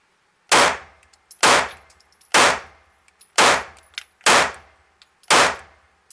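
Six loud, sharp gunshots from a Smith & Wesson pistol at an outdoor shooting range, evenly spaced about a second apart, each with a short ringing decay.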